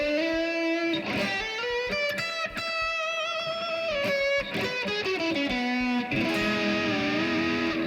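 Overdriven electric guitar lead plays sustained, singing notes and quick runs with slides, loud and steady without any talking.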